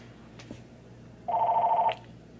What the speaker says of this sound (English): It ain't my house phone, it's my grandma's phone.